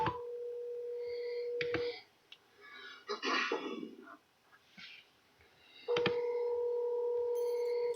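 A telephone being dialed to call a supervisor, with a steady tone at the start, a burst of rapid dialing tones in the middle and another long tone at the end, heard close with light movement noise.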